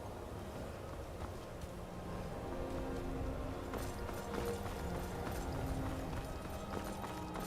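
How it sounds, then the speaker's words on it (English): Horse hooves drum quickly in Skyrim, a dense running patter that sits steadily under a rumbling outdoor background and grows slightly louder toward the end. "A horse."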